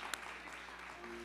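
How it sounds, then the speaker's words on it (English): Faint, steady applause from a church congregation during a Sunday service, a soft continuous patter of hands with no voices over it. "Let's give a round of applause for our bishop."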